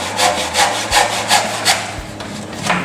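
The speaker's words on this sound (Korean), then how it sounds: "이제 이렇게 톱질을 해서 잘라야 하기 때문에" A hand saw cuts through a wooden door threshold in a regular back-and-forth rhythm of rasping strokes, close and loud, with no talking.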